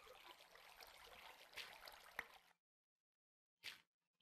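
Water trickling and flowing inside a Minecraft cave, a soft continuous stream that cuts off abruptly, followed by silence and a couple of brief faint bursts.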